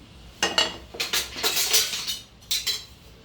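Curry leaves dry roasting in a pan, with a spatula stirring and scraping them in several close, clattering bursts of metallic clinks, and no voices.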